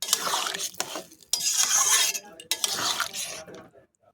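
Shrimp and melon curry stirred in a pot after water is added, with wet scraping and clinking of a spoon in bursts separated by short pauses.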